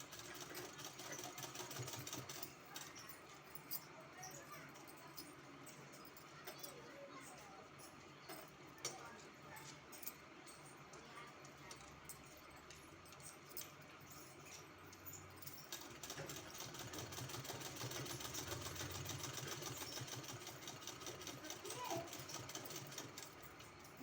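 A sewing machine stitches the hem of a kurti with a steady mechanical whir and rapid needle ticking, dipping midway and then running louder again, fairly close.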